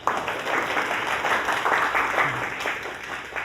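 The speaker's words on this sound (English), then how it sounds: "Clap your hand to welcome our teacher." A class of students clapping to welcome their teacher, a continuous wash of many hands applauding together, steady and moderately loud throughout.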